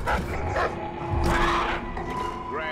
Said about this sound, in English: That dog is very mad.